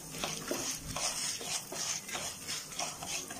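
Skin-on peanuts, about a cup, dry-roast in a pan and are stirred, making soft, repeated scraping and rattling strokes in a quiet kitchen with no one talking.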